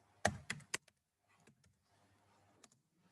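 Close keystrokes on a computer keyboard while code is typed, a quick burst of three sharp taps and then fainter scattered clicks over a low hum, with no voices.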